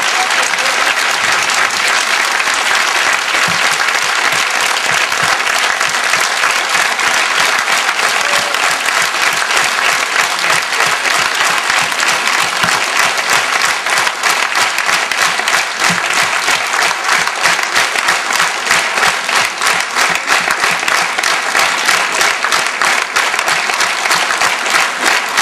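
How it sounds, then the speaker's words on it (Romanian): Sustained, dense applause from a theatre hall audience at a Dobrogea folk heritage show, steady and loud throughout with no break. "vă rog să mai aplaudați odată, pentru ca să putem înregistra și aplauze la televiziune"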